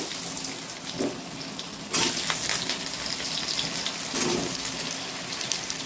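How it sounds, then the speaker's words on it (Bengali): Three large potatoes fry in oil in a wok, giving a steady, fairly loud hiss that jumps in intensity partway through as more sputtering starts, with no talk. "আলু কটা ভেজে নেব বন্ধুরা।"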